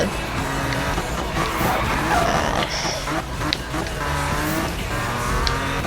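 A racing car engine revs hard in the Need for Speed video game, with tires squealing through skids, loud and continuous.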